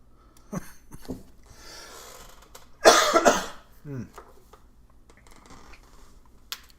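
A man coughs hard once, a close, loud burst with a second rougher cough just after, set among quiet shuffling and faint background sounds during a casual live stream chat.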